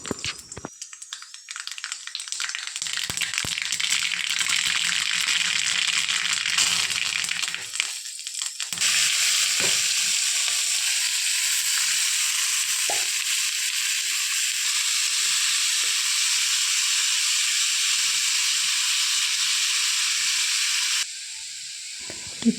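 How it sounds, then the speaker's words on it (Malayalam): Mustard seeds spluttering in hot oil in a home kitchen, a loud steady sizzle and crackle that starts softly, then swells and holds without pause before cutting off near the end, with no voices. "ഉണ്ടാക്കാൻ ആദ്യം തന്നെ എണ്ണയിൽ കടുക് വറവിട്ടു."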